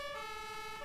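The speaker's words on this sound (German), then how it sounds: "Boah, diese Sirene." Steady wailing emergency siren from Farming Simulator 19, a continuous tonal wail with stacked harmonics, fairly loud and alone with no talk.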